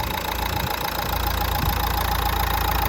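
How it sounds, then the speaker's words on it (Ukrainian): A 2013 Nissan Qashqai 1.5 diesel with 193,000 km idles with a steady, even clatter and low hum. The engine runs close and continuous without pause. "Двигун працює без ніяких нарікань."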